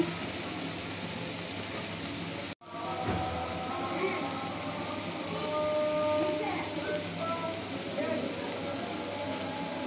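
Steady rain falls outside during a home cooking session, a continuous dense patter with a brief dropout early on and some faint background sounds, no talk.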